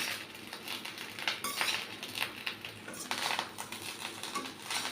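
Fried egg is stirred into rice in a pan, giving continuous rapid metallic scraping and clinking of a spatula against the pan, close and busy with no talk.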